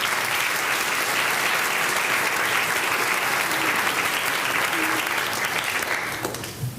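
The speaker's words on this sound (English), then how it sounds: "Give her a round of applause." A school assembly crowd at a senior blazer day gives dense, sustained applause that holds steady at full strength, then fades out at the end.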